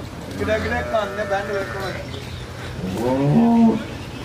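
Cows, Brahman and Cholistani crosses, low with drawn-out moos, one early and a louder one near the end, while people talk nearby.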